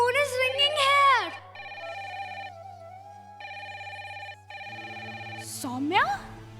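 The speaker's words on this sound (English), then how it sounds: "the phone is ringing here" A telephone rings in repeated electronic bursts with short gaps, loud and close, with a voice speaking before and after the rings.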